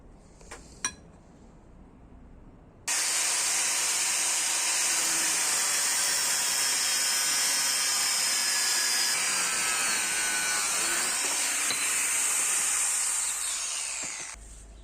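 A steel bar is cut along a marked angle for a chest press machine handle, a loud steady grinding or sawing roar that runs continuously for about twelve seconds after a few faint knocks.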